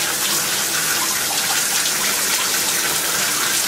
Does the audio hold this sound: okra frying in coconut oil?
no